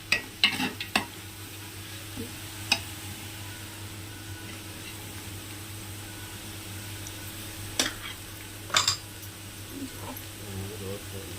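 Chili powder stirred into a frying biryani masala: a low, steady sizzle under a hum, punctuated by a few sharp utensil knocks and scrapes near the start and again toward the end, with no talking.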